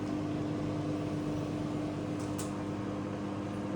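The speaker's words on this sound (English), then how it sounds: "There is now a queue for the microwave." A microwave oven runs with a steady, continuous hum and whir at constant loudness, with a sharp electrical tone under the broadband drone and no voices.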